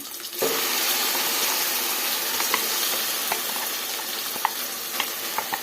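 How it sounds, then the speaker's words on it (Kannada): Loud sizzle bursts as a wet ground paste for brinjal curry hits a hot oil tempering, then a steady frying hiss with a few sharp pops and spatters. "ಈ ಥರ ಇವಾಗ ನಾವು ಒಗ್ಗರಣೆಗೆ ಸೇರಿಸ್ಕೊಳ್ಳೋಣ"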